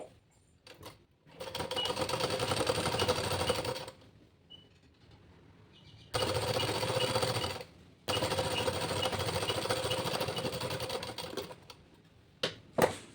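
A sewing machine stitches blouse cloth in two long, loud runs of rapid mechanical whirring and needle clatter, separated by quiet pauses and a few short starts and stops.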